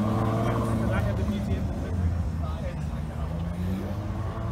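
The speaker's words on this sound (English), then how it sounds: "Got an 812 pulling in." A Ferrari 812 pulls in at a car gathering with a deep, continuous engine rumble, heard close under people talking nearby.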